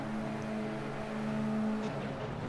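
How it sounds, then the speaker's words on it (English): Race cars sit on the grid at the start of a final, their engines holding a steady, sustained drone that fades slightly near the end, heard at moderate distance without voices. "Drivers getting ready. Revs are building."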